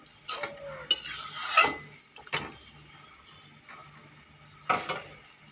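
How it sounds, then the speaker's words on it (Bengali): A spoon scrapes and clinks around a pot as goat meat curry is stirred with garam masala, a few separate soft bursts of stirring with quiet gaps between. "গরম মশলা দিয়ে একটু নেড়ে চেড়ে দিচ্ছি।"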